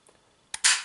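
A faint click followed by a sharp, loud metallic snap as the hammer of a Röhm RG 96 blank pistol drops into its safety notch, heard up close with no voices.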